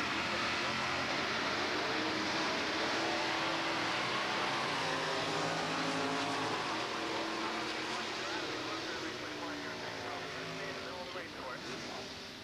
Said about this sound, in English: There's the Chevy Chevelle SS on the pit side, matching up with the full-size Chevelle.